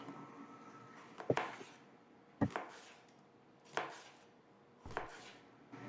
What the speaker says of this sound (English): Cut the cucumber into long, wide slices.